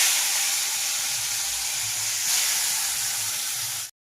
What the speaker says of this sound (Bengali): এখন কড়াইয়ে তেল দিয়ে দিচ্ছি। এখন মাছগুলো আমি ভেজে নেব।